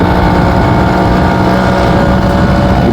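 Motorcycle pulling in third gear up the hairpin bends of the Yercaud hill road, a loud, continuous engine drone with steady throttle, close to the microphone and mixed with wind rush.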